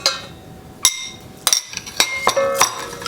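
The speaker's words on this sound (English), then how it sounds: "So now I'm just going to add all the crumble mix in" Crumble mix is spooned into a dish with a series of sharp, close clinks of a utensil against the dish, spaced irregularly with quiet gaps between.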